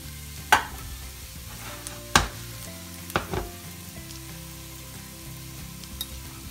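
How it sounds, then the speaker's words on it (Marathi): Dill (shepu) vadi shallow-fry in oil in a pan under a faint, steady sizzle, with a few sharp clinks and bumps of a utensil spaced a second or so apart. The sounds are close and quiet, and no one talks. "म्हणून मग थोड्या आपण शॅलो फ्राय करून घेऊया।"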